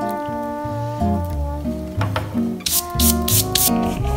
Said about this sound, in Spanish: Quitamos con la viruta.